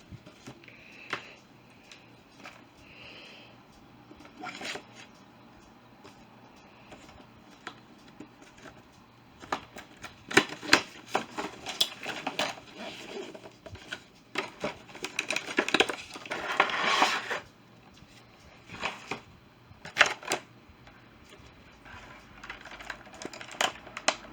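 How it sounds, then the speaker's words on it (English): A cardboard box holding a Transformers Studio Series Hot Rod toy is ripped open, giving scattered crinkling, tearing and tapping noises that grow busier and louder midway, close and fairly quiet. "let's rip into Hot Rod's box and get him out"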